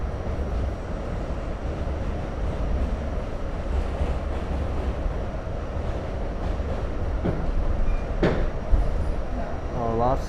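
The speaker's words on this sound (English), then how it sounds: "why is there no info ski on the train? It's an older train." An older New York City subway train runs steadily in Coney Island, a loud continuous rumble of wheels and rail with a few sharp squeals and clanks near the end, no talk over it.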